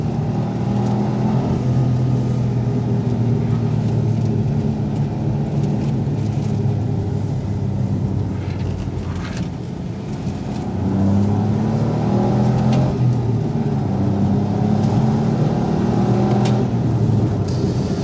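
A Smart car engine drones loudly and steadily at around 6,000 RPM from inside the moving car, with a constant road rumble underneath.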